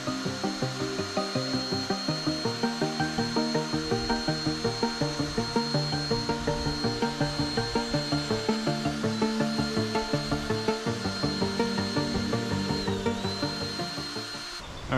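A handheld drill fitted with a makeshift spinner whirs steadily while mixing gel coat for a 20 ft Aquasport fishing boat, its motor droning with rhythmic scraping pulses as it moves up and down, close and alone without talk.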